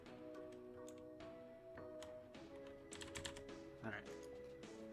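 Keycaps being pressed back onto a computer keyboard after a spill cleanup, giving scattered light plastic clicks and taps, close and quiet, with a voice talking faintly underneath.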